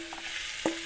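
Ground beef frying in a little oil in a pan hisses with a steady close sizzle, with a soft stirring scrape partway through.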